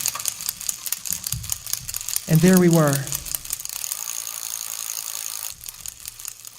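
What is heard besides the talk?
gears clicking and wheels turning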